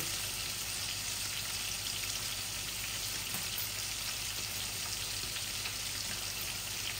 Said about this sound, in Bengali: চতুর্দিকে তেল পড়তেছে, তাই আমি এইভাবে ঢেকে ঢেকে ভাজাটা করতেছি।